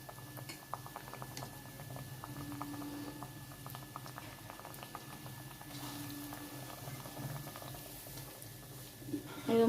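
Battered potato slices frying in hot oil give a faint, steady crackle and patter, with a few soft clinks and bumps of utensils and a louder knock right at the end.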